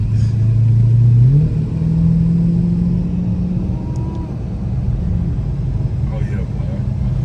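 Dodge Hellcat accelerating hard, a loud close engine roar rising in pitch then settling into a sustained drone, with someone talking over it.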